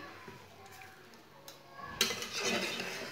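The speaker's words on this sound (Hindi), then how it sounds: "आलूओं को बाहर निकाल लेंगे।" Boiled potatoes lifted out of a pot with a utensil, soft stirring and scraping giving way to a louder clatter of metal and splashing toward the end.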